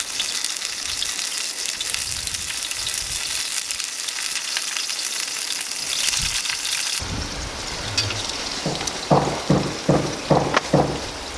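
Mushrooms, cut fairly large, fry in hot, smoking oil with a loud, steady sizzle; partway through, the hiss thins and a run of sharper crackling spits and pops breaks out close by.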